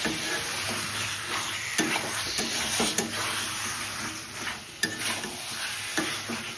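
Chicken sizzling steadily in a hot pan while a spoon scrapes and stirs it, with a few sharp metallic clinks against the pan and no talking.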